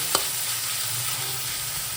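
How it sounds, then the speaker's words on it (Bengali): Steady, close sizzling of potato, onion and carrot frying in a hot pan, with a brief clink near the start and no voices. "সবজি ভাজছি আলু পেঁয়াজ আর গাজর"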